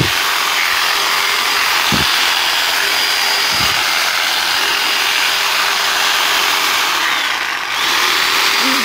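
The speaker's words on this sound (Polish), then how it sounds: "wciskałem włącznik, i blokujemy sobie tym przyciskiem" A Graphite 58G971 electric reciprocating saw runs loudly and continuously with a harsh, buzzing roar, broken only by a couple of brief clicks, close to the listener.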